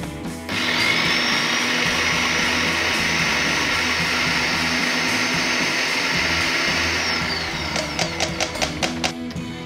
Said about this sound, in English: And blend them all together till it gets really smooth.